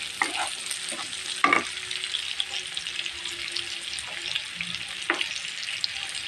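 Taro stolons (kochur chhora) fry in a pan with a steady, fairly quiet sizzle, broken by a few louder clinks and stirring scrapes.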